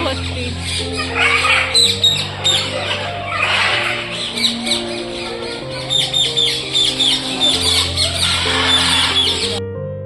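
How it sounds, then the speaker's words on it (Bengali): Parrots fill a zoo aviary with a steady stream of chirps and sharp squawks. The calls overlap at close range over a constant low background hum. "আর এখানে টিয়া পাখি ভর্তি"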